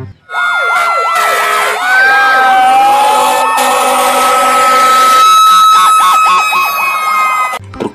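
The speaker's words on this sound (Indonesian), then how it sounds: "Ini ada mobil damkar." A toy fire truck's electronic siren plays loud and close, cycling through wailing and rapid yelping patterns in a continuous run before cutting off abruptly.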